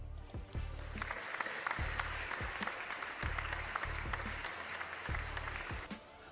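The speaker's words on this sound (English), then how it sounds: "we've got to give a round of applause" Small group at an MMA gym belting ceremony claps steadily for about six seconds, the applause fairly close and moderately quiet with a few sharper individual claps standing out.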